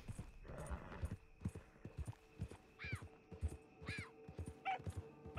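Horse hooves clip-clop in a steady trotting rhythm while riding in the video game Red Dead Redemption 2, with a few whinnies and neighs over the hoofbeats, fairly quiet overall.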